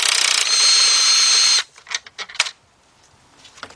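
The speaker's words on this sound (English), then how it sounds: "Then I'm using my cordless impact." A cordless impact wrench with a 10mm deep 3/8-drive socket runs on timing cover bolts of a Chrysler Sebring, giving a loud sustained buzzing hammer for about a second and a half, followed by lighter clicks and clatter of the tool and socket.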